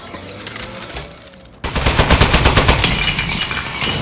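Turret gunfire in the video game Aperture Desk Job breaks out abruptly after a quiet stretch, a loud, rapid, continuous stream of shots rattling on to the end.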